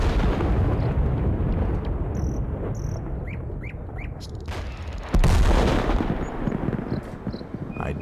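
Artillery fires in the strategy game Total Conflict: Resistance, a dense rumbling bed of distant booms and gunfire with a sharp, louder blast partway through, chirping insect-like ambience above, and no talking.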